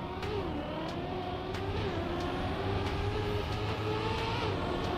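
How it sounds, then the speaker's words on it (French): Car engine in the racing game Trackmania, a steady droning hum with slowly shifting pitch and faint revving, fairly quiet and continuous without pauses. "J'ai l'impression que le son de ma voiture est plus bas que d'hab."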